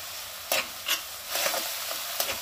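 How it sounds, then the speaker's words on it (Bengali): A paste of garlic, green chili, tomato, ginger and cumin fries in a pan for a Bengali katla fish curry, giving a steady close sizzle broken by a few scraping stirs. "এটা একটু কষে নিই।"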